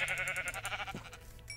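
Sheep bleating in the Minecraft video game, a few wavering harmonic bleats close by, one after another over quiet game background with no talking.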